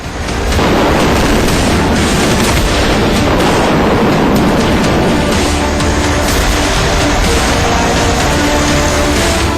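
Loud, continuous roaring blasts fill the whole stretch, a dense barrage of booming cannon fire with no pauses and no voices.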